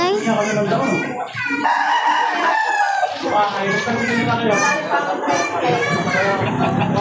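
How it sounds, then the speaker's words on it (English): Minecraft chickens cluck in a blocky game world, their bursts repeating loudly throughout while a player talks over them almost constantly. "Another chicken."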